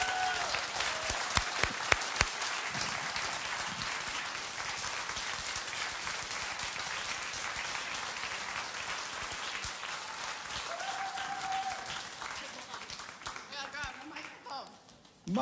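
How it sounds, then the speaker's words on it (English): A crowd applauds steadily for several seconds, dense clapping that slowly thins out, with a few cheers and voices mixed in. "All right, let's give Summer another round of applause."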